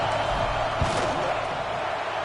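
A field goal kick in a video game football match lands as a single dull thump against a steady wash of stadium crowd noise.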